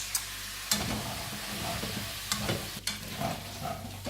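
Ground beef browns and fries in a hot pan, a loud continuous sizzle broken by a few scraping stirs and clinks of the utensil, with no talking.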